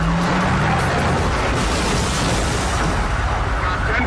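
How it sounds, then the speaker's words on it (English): A car slams into a utility pole at the end of a police chase in Easley, South Carolina, in 2007: a loud, continuous roar of engine, skidding and crunching impact noise fills the whole stretch, with no talking. "The tweaking driver pilots his baby mama's car right into a utility pole."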